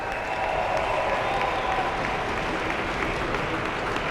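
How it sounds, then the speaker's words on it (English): Spectators at a 2016 Ice Sledge Hockey Pan Pacific Championships gold medal game in Buffalo give a big, steady round of applause and cheering as a Team USA player is announced, a continuous wash of crowd noise with no talk over it. "A big hand from the crowd here when Western New York native Adam Page of Team USA was announced"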